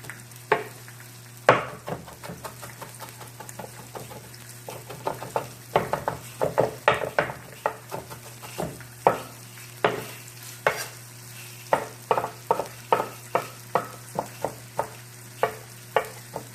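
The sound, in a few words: pork chops frying and being stirred in a pan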